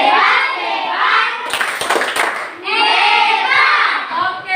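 A class group claps in rhythm for the Pati group during a school lesson, with a short burst of sharp claps sandwiched between stretches of lively group chanting.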